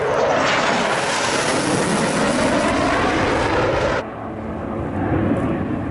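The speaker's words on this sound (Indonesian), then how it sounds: "Gempuran 2 pesawat F-16 ini mengawali serbuan tumpuan pantai dalam operasi amfibi" Two F-16 fighter jets roar overhead during an amphibious beach assault exercise, a loud sustained broadband jet rumble that drops slightly toward the end as the aircraft pass.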